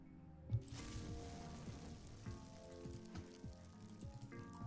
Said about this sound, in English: I thought it was a rain sound element.